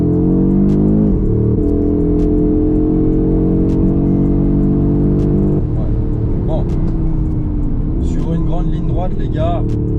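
A 2022 Audi RS3 in Miami blue accelerates hard on a test drive, its engine climbing in pitch through gears with a brief shift dip, loud from inside the cabin, with someone talking in places.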